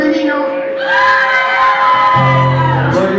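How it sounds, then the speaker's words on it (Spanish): Women in an audience screaming together, a sustained, loud, high-pitched crowd shriek lasting a few seconds. "A ver, el grito femenino."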